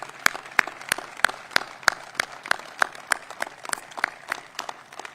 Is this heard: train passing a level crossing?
no